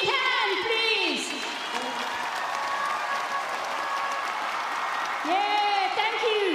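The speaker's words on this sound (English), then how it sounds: "Give a clap. A big hand, please." An audience at the 2023 Pacific Games closing ceremony in the Solomon Islands applauds Tahitian haka dancers, with sustained crowd clapping and cheering while an announcer speaks over it.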